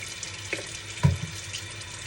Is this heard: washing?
yes